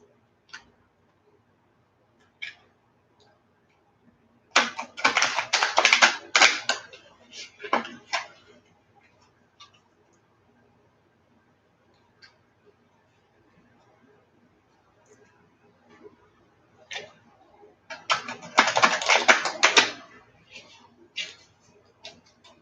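Two bursts of rapid riffling, a card shuffle close by, separated by quiet stretches with a few soft ticks and taps.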